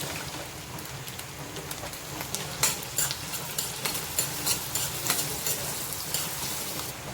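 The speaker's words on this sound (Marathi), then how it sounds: "कढई आपली चांगली तापली आहे त्यात हा एक कांदा कापला आहे तो टाकते" Chopped onion frying in hot oil in a kadhai: a steady, crackling sizzle with scattered pops, close by and moderately loud, no talking.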